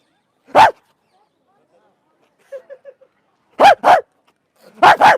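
A man imitates a dog with short, sharp barks, one alone, then a quick pair and another pair, with faint chatter in between.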